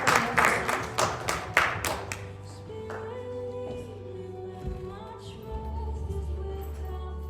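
An audience claps to welcome Dr Jean-Pierre Mufuta at a church gathering, a short burst of applause that fades within two seconds, after which a sustained musical tone carries on under quieter sound.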